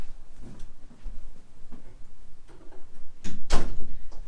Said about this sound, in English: I just needed to close my door in case things got a little bit too noisy on the other side of it.